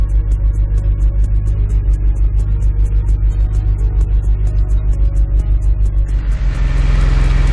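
A BMW E90 335i with the N54 turbocharged engine, undergoing a stage 1 turbo upgrade reassembly, idles steadily with a regular pulsing rumble, then revs up sharply near the end, close and loud with no talk.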